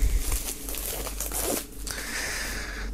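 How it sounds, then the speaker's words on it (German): Plastic shrink wrap crinkles and tears as it is pulled off a music box set, a close, continuous rustling crackle with a brief sharper rip midway and no talking. "werden wir das Ganze mal aus der Folie befreien"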